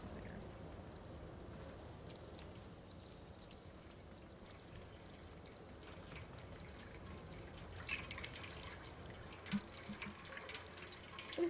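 Water in the video game Stray pours and trickles in a steady, quiet flow, and a few clearer drips and splashes stand out near the end.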